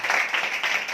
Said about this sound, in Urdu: زوردار تالیاں اپنے یسوع کے لیے